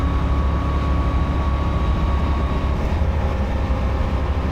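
Deep, steady engine drone heard from inside the cabin of a Corvette C6 Z06 cruising in 5th gear at 4,000 RPM, a constant low rumble with a faint even whine and no break.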